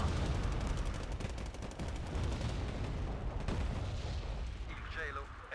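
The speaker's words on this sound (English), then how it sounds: "Oh, what is this artillery?" Artillery fire rumbles through the Wargame battlefield as a dense, continuous barrage of booming gunfire and explosions, loud and sustained, with a player talking over it.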